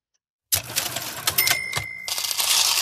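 A cash register chimes in a video game as profit is added: a run of bright mechanical clicks and rings with a sustained tonal ding, loud and close, with no talk.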